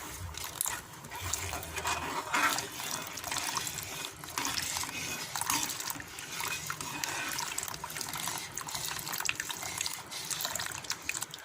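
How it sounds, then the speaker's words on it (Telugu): Liquid flour water pours into simmering sugar syrup on the stove for a peanut halwa, a soft continuous trickling and sloshing under faint stirring, fairly quiet and close. "ఇప్పుడు ముందుగా రెడీ చేసి పెట్టుకున్న కారం ఫ్లోర్ వాటర్ని ఇందులో కలిపేసుకుందాం"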